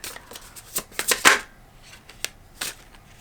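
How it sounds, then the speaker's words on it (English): Oracle card deck being shuffled: a run of crisp papery riffles and flicks building to a louder burst, then a few lighter card taps, close and alone with no talk. "I'm going to pull a card from the Oracle deck"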